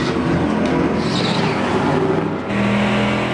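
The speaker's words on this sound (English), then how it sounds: "100+ miles per hour into turn 1, hoping the car doesn't spin" A race car at over 100 miles per hour entering turn 1 at Kern County Raceway Park, a loud, steady engine roar with wind and road noise from the cockpit and a brief dip in pitch near the end.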